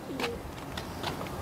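A Banarasi pigeon gives a short, soft coo close by, with a couple of brief calls against steady background noise.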